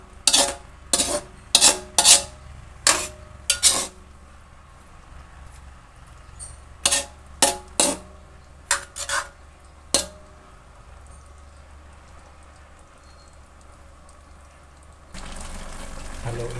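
Half-cooked banana frying in a pan, with a soft steady sizzle beneath a series of loud, sharp clinks and scrapes of a utensil against the pan, followed by a louder hiss near the end.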